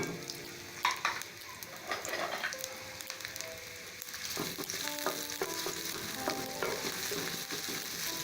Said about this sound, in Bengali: যে পেঁয়াজটা রেখে দিয়েছিলাম সেটাও দিয়ে এটাকে ভাজা ভাজা